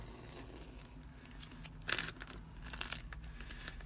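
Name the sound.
peeling transfer image off a glassine bag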